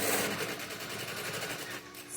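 A sewing machine runs steadily through a seam in the lining and main fabric of a zippered cosmetic case. It gives a fast, even mechanical chatter, close and continuous for about two seconds, with no talking.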